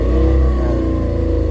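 Car engine revving hard while pulling away uphill on a steep road, a loud, steady, strained drone close by with no speech.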